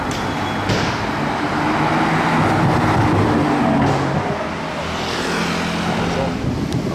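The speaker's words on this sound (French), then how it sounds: "Oh la Dodge Viper, j'étais pas prêt" A Dodge Viper sports car drives through Monaco street traffic, its engine and tyre roar blending into loud, steady road noise with wind buffeting the microphone, and no distinct pass-by peak.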